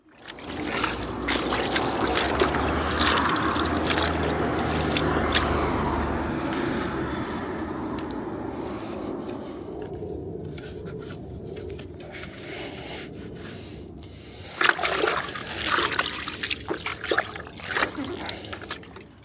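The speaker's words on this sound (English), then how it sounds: "So applying this onto the alloy wheels, and then I'm going to immediately get it off with some cold water." Cold water rinses car alloy wheels outdoors, a steady hissing spray and trickle running for most of the stretch, with some rubbing and a louder splashing burst near the end; brief talk sits underneath.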